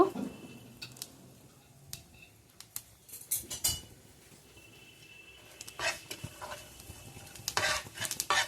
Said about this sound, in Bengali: জিরেটিকে আমি একটু ভেজে নিচ্ছি।